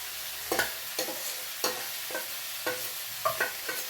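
Ginger paste with cumin, chilli and turmeric powders fries in hot oil, a steady close sizzle broken by repeated spoon clacks against the pan as the masala is stirred.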